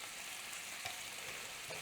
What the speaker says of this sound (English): And our bacon's sizzling away.